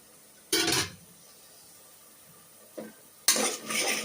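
Spoon or spatula clatters and scrapes against a pan in a few short bursts while country chicken fries, with quiet stretches between and a faint sizzle underneath.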